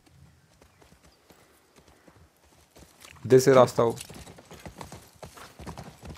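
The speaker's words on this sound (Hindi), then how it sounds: "ये क्या घोड़ा अंदर" A horse's hooves clip-clop in The Last of Us Part 1, a loud burst of clopping in the middle of the clip, while someone talks in Hindi before and after.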